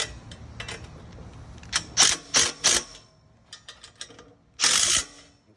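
Fasteners are tightened during assembly of a Cricket mini golf cart, a close series of quick metallic ratcheting clicks in short bursts with pauses between them, and no voices.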